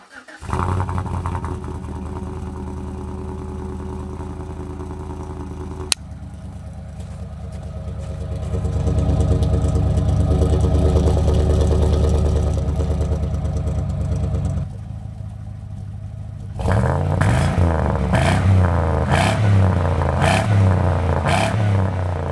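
A GMC Yukon engine with an MBRP cat-back exhaust starts and idles with a raspy, droning note, rising as it revs, then settling into a rougher, throbbing idle.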